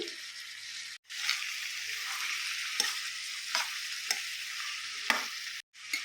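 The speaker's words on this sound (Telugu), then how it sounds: "ఇప్పుడు ఒక హాఫ్ టీ స్పూన్ సాల్ట్ వేసి బాగా కలపండి" Boiled carrot pieces mixed with salt sizzle in a pan as they are stirred. The close, steady frying hiss is broken by scraping strokes and two brief silent gaps, and no one speaks.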